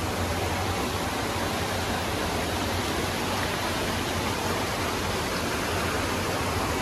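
Water flowing in a rocky stream on a forest hike, a constant broadband rush at steady moderate loudness with no voices over it.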